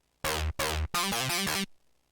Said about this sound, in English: Let's quickly show you the lead synth. Okay, coming out of Vital, it sounds like this.